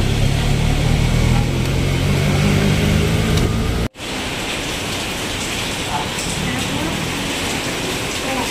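Steady, continuous rain falls during a night journey, a dense even hiss that cuts out for a split second partway through and then resumes at the same level.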